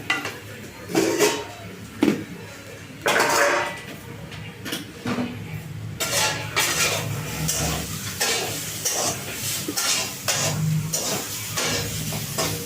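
Chicken singara pastries sizzle and fry in a pan for several seconds, with occasional scrapes and knocks of a utensil stirring against the pan's sides.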